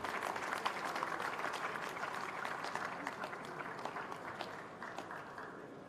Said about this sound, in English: Please let's give him a round of applause as he comes up.